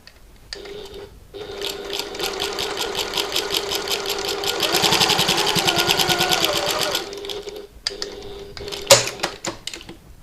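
A sewing machine stitches a button lock bag near a rivet, a close, rapid mechanical chatter that builds and runs steadily for several seconds before stopping, ending with a few sharp clicks.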